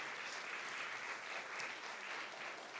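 A crowd at a live event in Pardubice claps in a steady, unbroken wash of applause, quiet and distant-sounding throughout.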